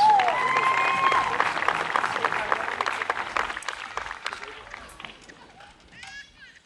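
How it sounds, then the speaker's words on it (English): An audience applauds jazz band soloists at a school concert, dense clapping that is strong at first and gradually thins and fades over several seconds. "Let's give them one more round of applause."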